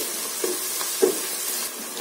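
Food browning in a pan for a simple kuska rice dish, stirred so a steady soft sizzle runs throughout with a few brief scraping knocks from the spoon.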